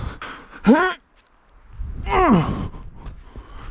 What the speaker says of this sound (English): I'm breathing into the microphone, it probably sounds awful.